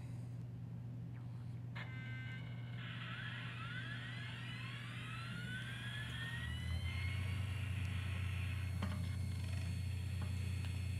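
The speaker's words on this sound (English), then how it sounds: "Turn on the Jaz Drive here." An Iomega Jaz drive on a SCSI connection spins up after a disk goes in. It gives a faint rising whine that sweeps upward over a steady low hum, quiet and close.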